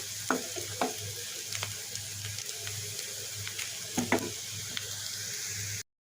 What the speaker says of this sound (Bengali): আলু দিয়ে করলা ভাজি করে নিলাম